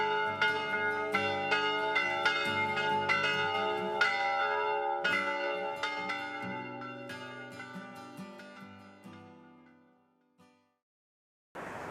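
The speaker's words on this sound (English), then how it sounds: "and ring the bell." A church bell rings at an old whalers' church on South Georgia, with strong, evenly spaced strokes whose long ringing tones fade gradually into silence.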